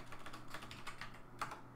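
Fast, light clicking of a computer keyboard during coding work, a close, quiet run of uneven keystrokes with no talking.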